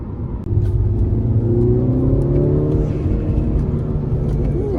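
A car revving hard through low gears, fitted with a newly installed aftermarket intake; a loud, continuous engine roar with rising and falling pitch sweeps, close to the microphone, no talk.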